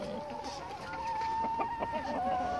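Chickens cluck steadily in a backyard coop, a close, continuous run of soft clucks and calls with a few sharper notes rising toward the end.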